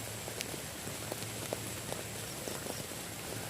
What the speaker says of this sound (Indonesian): hujan turun teman-teman?